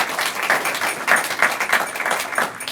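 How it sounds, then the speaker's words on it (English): An audience at a debate competition applauds the debate teams, dense sustained clapping that swells and eases over a few seconds, filling the room without any voices over it. "give a round of applause for the opposing and the proposing team"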